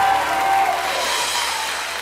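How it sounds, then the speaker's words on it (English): Steady applause from a talk show studio audience, continuous broadband clapping that holds at an even level throughout without any voices standing out. "Can we have a round of applause for Jim?"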